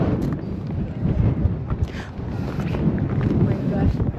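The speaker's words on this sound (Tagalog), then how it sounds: "Hangin kay Mads no." Strong wind buffets the microphone at the Acropolis of Athens, a continuous low rumbling roar that swells and dips in gusts.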